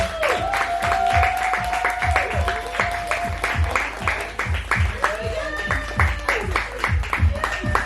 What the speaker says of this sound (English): Y'all clap it up since she did it